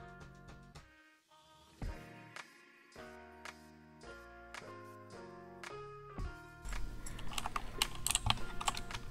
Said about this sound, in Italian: Andiamo a sentire un attimo adesso come suonano la tastiera.